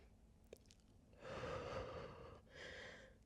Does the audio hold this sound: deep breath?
yes